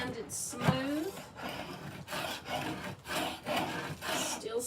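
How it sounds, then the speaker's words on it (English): Hand scraper stripping old finish from wood while restoring a historic house: repeated rough rasping strokes at a steady rhythm, close by and moderately loud, with a person talking over parts of it. "The more I scrape, the more comes off."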